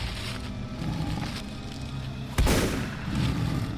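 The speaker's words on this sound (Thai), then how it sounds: "จึงหันไปยิงปืนใส่แบบทีรั่ว" Rapid gunfire in a Thai ghost story, shot at a huge dark shape charging in after a tiger's roar: a loud sharp blast rises out of a dense rumbling bed and trails off, with the rough noise continuing afterward.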